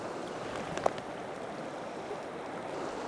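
Continuous rushing of river water flowing over rocks in a canyon stream, close and steady, with a faint splash or click early on.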